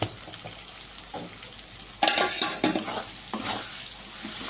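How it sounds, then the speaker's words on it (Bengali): Chili powder and coriander-cumin powder fry in a pan with a steady sizzle, broken by louder bursts of stirring and scraping midway, close and alone without talk. "এবার একটু ভাজা ভাজা হবে"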